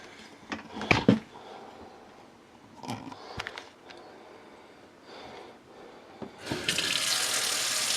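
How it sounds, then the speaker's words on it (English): Tap water from an RV's Truma AquaGo water heater system pours into a clean glass, starting after a few clunks and handling knocks and then rushing steadily and loudly up close. "fill a clean glass of water, let it settle"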